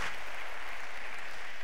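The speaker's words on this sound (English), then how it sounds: "Let's give them a round of applause" Church congregation applauding at a 35th anniversary service, a steady broadband wash of clapping held at a fairly distant, soft level throughout with no voices over it.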